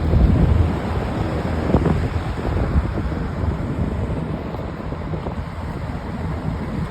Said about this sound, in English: It sounds just like a regular box fan that we have today, kind of.